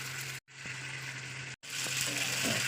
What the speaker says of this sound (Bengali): 5 মিনিট ধরে আমি এটা কষাবো।